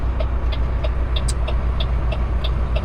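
A car rolls slowly along a road in the southern US, with a steady low engine and tire rumble and faint periodic ticking over it, close and continuous, and no voices.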